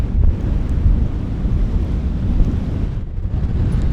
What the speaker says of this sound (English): but it's gusting about 25 now.